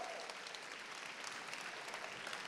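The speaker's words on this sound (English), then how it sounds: "round of applause" Audience at a closing event in London claps throughout, even and continuous applause that sounds distant and faint.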